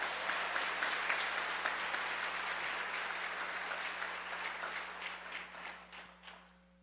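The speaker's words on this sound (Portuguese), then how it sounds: "Aplauda Jesus Cristo." A church congregation applauding during a Portuguese-language sermon, a steady wash of many hands clapping at moderate volume, heard from some distance with a low hum underneath, that fades out near the end.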